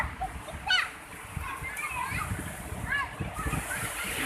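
Waves splash continuously along a beach in Bengkulu, with children playing and chattering nearby in the surf throughout.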